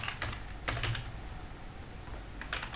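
C++ code is typed on a computer keyboard in quick bursts of clicky keystrokes separated by short pauses, close and fairly quiet, with no talk.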